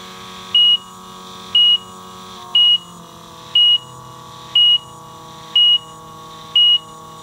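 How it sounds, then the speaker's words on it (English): A Solair portable particle counter sounds its alarm: seven short, high-pitched electronic beeps at an even one-second pace, clear and close over a faint steady hum. "if you're sampling and you don't want to listen to the beep, beep, beep sound"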